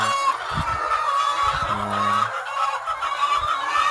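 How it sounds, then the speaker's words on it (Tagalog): Chickens on a poultry farm cluck and call in short, repeated bursts over a steady, breezy background hiss, close and fairly loud, with no talking. "So yan mga kamanok, meron na po akong nakikitang itlog, medyo marami-rami na."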